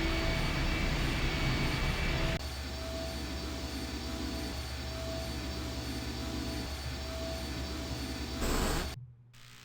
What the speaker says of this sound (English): I'll be damned. The engine's starting up again.